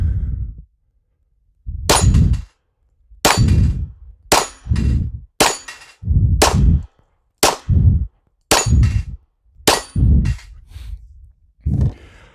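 Nine loud, sharp Glock pistol gunshots ring out one by one at an uneven pace, each with a short echoing decay, separated by gaps of silence.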